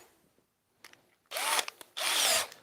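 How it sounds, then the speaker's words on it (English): Two bursts of a power drill driving a screw whirring loudly and close, each lasting about half a second, separated by a brief pause, after quiet handling noises. "I need to put the screwdriver bit back into the drill."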